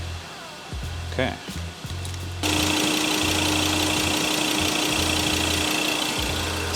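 A car engine turning over after an oil change: a few faint mechanical knocks, then the engine starts and settles into a steady, even idle, close and moderately loud, with brief speech early on.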